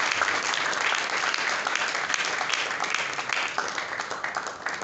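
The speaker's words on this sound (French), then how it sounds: "Est-ce qu'on peut applaudir pour l'artiste," Audience at an awards ceremony applauding an artist, loud continuous clapping from a large crowd that stays steady and thins slightly toward the end.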